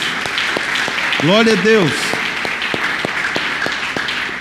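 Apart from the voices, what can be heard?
applause in church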